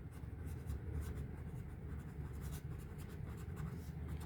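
A pen scratches across paper close by, faint but continuous, with quick strokes and short pauses as numbers and words are written down.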